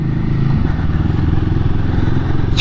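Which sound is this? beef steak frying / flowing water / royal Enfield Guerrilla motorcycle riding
royal Enfield Guerrilla motorcycle riding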